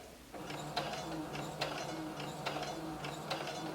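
Sewing machine stitching knit fabric, a steady close mechanical whir with a rhythmic clicking pulse repeating at regular intervals.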